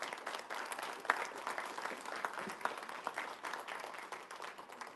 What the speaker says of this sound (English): give them a round of applause for, like I said, Nathan, Allison, Reese, and Morgan